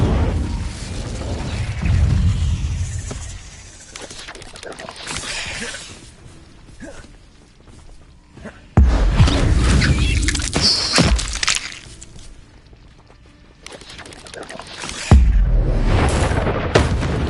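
A fire spell, Incendio, cast in the video game Hogwarts Legacy, heard as a few heavy booming bursts with crackling tails, separated by quieter stretches of ambience.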